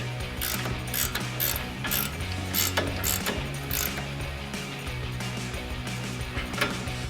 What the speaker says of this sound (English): Now we'll tighten down our upper ball joint nut with our 21 millimeter ratcheting wrench.